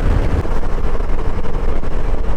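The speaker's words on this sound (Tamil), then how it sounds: "செம்மையாக தள்ளுது காற்றுங்க" Strong wind buffets the microphone near swaying coconut trees, a constant loud rushing roar with gusty fluctuations and no voices.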